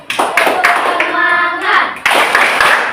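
Schoolchildren in a classroom do a rhythmic spirit clap, sharp loud group claps landing in a patterned beat, with children's chanting voices ringing between the claps.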